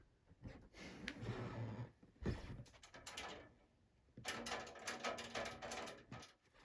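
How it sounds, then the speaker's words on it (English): Loose speaker grills on Galaxy 6708 speakers rattle and clatter in irregular bursts. The plasticky buzzing and knocking comes in several close, fairly faint clusters with short gaps between them. "all the noise that you might have been hearing were the grills"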